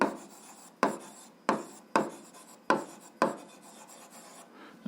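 A pen or chalk scratches rapidly across a writing surface while a math solution is written out, in repeated short rasping strokes with brief pauses between them, close and steady, with no voice.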